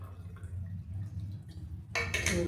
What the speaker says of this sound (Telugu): అలాగే దీంట్లో కూడా నీళ్ళు వేద్దాం